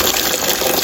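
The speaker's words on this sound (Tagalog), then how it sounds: "nirefill ko lang muna yung tubig." Water pours steadily and close by as a container is refilled for the washing machine, a continuous gushing splash with no breaks.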